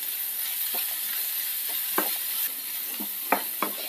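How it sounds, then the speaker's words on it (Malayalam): Potatoes and beans are stirred with turmeric, pepper and Kashmiri chili powder in a pan, giving a soft steady sizzle broken by several light scraping and tapping strokes of a spoon. "മഞ്ഞൾപ്പൊടി, കുരുമുളക് പൊടി, കാശ്മീരി മുളക് പൊടി നന്നായിട്ടൊന്ന് മിക്സ് ചെയ്യാം"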